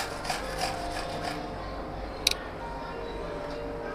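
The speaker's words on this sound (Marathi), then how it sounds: "अशा 3 काकड्या घेतल्या आणि त्याला आता आपण किसू." Cucumbers are grated for cheese and vegetable patties, giving soft repeated rasping strokes in the first half, quiet and close, then a single sharp click and a duller stretch.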